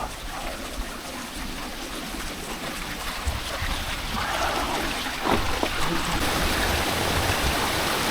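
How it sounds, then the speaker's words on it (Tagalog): A strong river in Occidental Mindoro rushes close by, a dense continuous roar of churning water that grows louder with a few splashy bursts. "Oh, lakas ng tubig."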